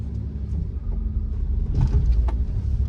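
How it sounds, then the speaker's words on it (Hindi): A car makes a U-turn on a road, with a steady low engine and road rumble and some wind noise, heard from inside the vehicle and with no talking. "तो अभी हमारी गाड़ी यू टर्न ले रही है"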